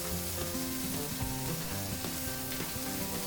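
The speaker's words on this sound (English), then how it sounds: "Go ahead and flip our mushrooms a bit." Mushrooms searing on a grill next to burgers, a constant close sizzle with scraping and clinking as they are turned one by one, no speech.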